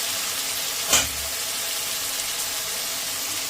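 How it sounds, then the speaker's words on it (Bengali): Water poured onto a well-fried spice paste in a hot pan, a sharp splash and hiss followed by steady loud sizzling that continues throughout. "এখন আমি এর মধ্যে জল দিয়ে দেবো"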